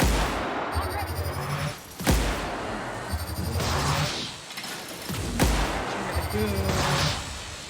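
Gunshots in the first-person RPG The Outer Worlds as an enemy is shot in the leg, several heavy reports with sharp cracks spaced a couple of seconds apart, loud and close amid game noise and a talking voice.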